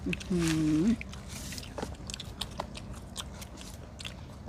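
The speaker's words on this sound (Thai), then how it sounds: "พี่น้องพี่กินคำใหญ่เลย" Fresh, sticky jackfruit picked straight from the tree is bitten and chewed close to the mic with soft, wet crunches after a brief vocal exclamation.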